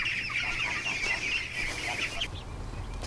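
Ducks making a constant stream of high, thin peeping calls close by, fairly quiet, with a slight break near the end.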